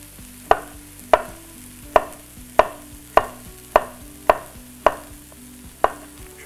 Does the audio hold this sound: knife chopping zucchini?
yes